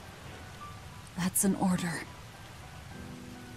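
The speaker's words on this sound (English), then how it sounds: "It's just the rain." Rain falls in a video game as a steady, even hiss throughout, while a voice speaks briefly over it in the middle.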